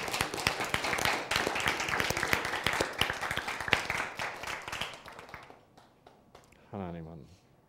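A church Bible-study audience gives a burst of clapping that fades out over several seconds, after which someone briefly speaks.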